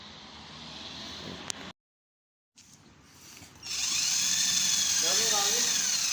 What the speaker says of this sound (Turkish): 3 milim matkapla bunu genişletebiliriz büyük ihtimal